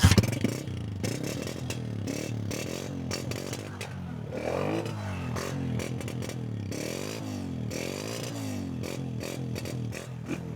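Honda 125 motorcycle engine running: a close, throbbing idle with a rapid rhythmic putter and a few small revs that wobble the pitch, with no talking over it.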